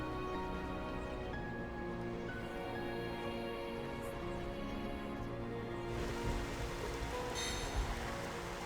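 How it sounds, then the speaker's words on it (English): Rain falls in Xenoblade Chronicles Definitive Edition as a steady hiss over layered game music, continuous and fairly loud, with no speech. "And just like that, the rain started."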